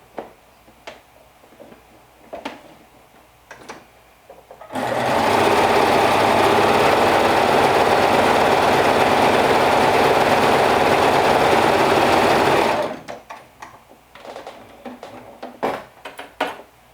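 A sewing machine hems a cardigan sleeve in one loud, steady run of about eight seconds. Lighter handling clicks and rustles from the fabric come before and after the stitching.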